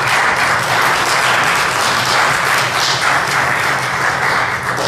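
Church congregation applauding God during a Spanish-language sermon, a dense, loud, continuous wash of clapping from a large crowd that holds steady for about five seconds with no voices over it.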